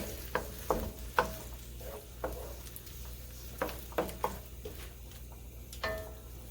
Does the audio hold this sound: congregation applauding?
no